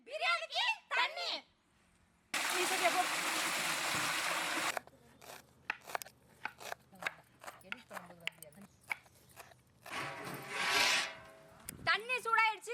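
Water poured into a large pot for village-style egg bonda biryani, a steady rushing pour of about two seconds, preceded and followed by talking and small clinks and rustles of cooking.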